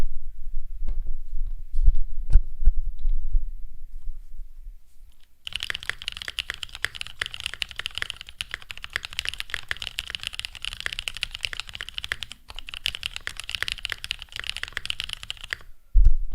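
Mechanical keyboard with Novelty Creams linear switches not broken in, on an aluminum plate in a tray-mount Tofu case with case foam: dense, rapid close-up typing clacks, first sparse, then continuous fast keystrokes.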